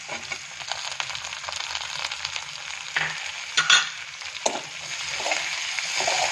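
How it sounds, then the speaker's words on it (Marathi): Browned onion and chopped tomato fry together in a pan for a cauliflower curry, a continuous sizzle broken by several sharp stirring scrapes of a spatula. "हा कांदा कसा लाल झालेला आहे आता आपण त्यात चिरलेला टोमॅटो घालणार आहोत"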